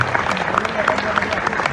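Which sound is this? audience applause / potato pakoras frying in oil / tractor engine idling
audience applause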